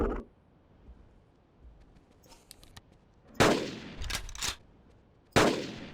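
Gunshots from a hunting rifle in the dinosaur-hunting game Carnivores Triplex, set in a swamp: several loud, sharp reports in two close pairs, each with a ringing tail, after a quiet stretch with faint ambient sounds.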